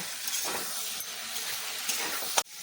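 Samosa filling being stirred with sauce in a frying pan, a steady sizzling hiss with soft scraping throughout and a sharp clink of the spoon near the end.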